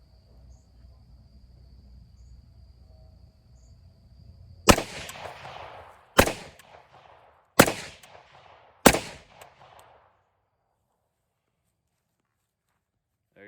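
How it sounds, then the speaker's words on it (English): An AR-15 rifle fires four loud, sharp shots spaced about a second and a half apart, each with a short echoing tail, after a quiet outdoor stretch with crickets chirping. "I shot about 4 rounds."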